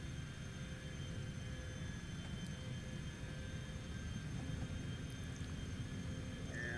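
An airplane engine at takeoff power in the X-Plane 12 flight simulator holds a steady, droning roar with constant low rumble and a few fixed tonal whines, unbroken and moderately quiet, with no talk.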